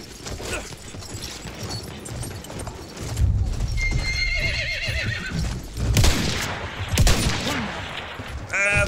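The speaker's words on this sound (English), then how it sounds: "Ooh, there's a horse." A horse in the Battlefield 1 video game gallops with fast clip-clop hoofbeats and lets out a loud whinny, amid bursts of distant gunfire and battlefield noise.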